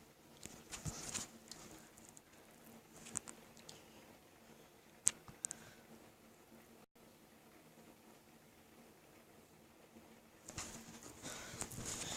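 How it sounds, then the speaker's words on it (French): Soft, steady patter of rain outside in the background, with scattered light drips and taps; quiet overall, swelling slightly near the end. "si vous entendez la pluie, c'est normal"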